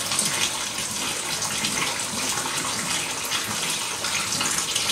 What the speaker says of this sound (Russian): Перед первым использованием, перед началом, надо спустить там литров 30 воды, что ли.